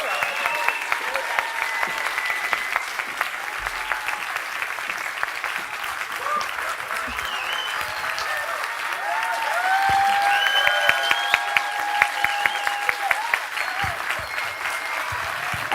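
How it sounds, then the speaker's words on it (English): Prolonged applause at the InnoEnergy Masters+ graduation ceremony honoring graduate Francisco José Aguilera Cabezas; a large crowd claps continuously, growing louder midway, with occasional faint voices and whoops mixed in. "A big applause for Francisco José Aguilera Cabezas."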